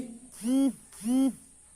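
Call of the western tragopan, a pheasant of the Himalayan forests of Himachal Pradesh: two separate loud, wailing hoot-like notes, each about a third of a second long with a rising then falling pitch, close and clear, with no talking.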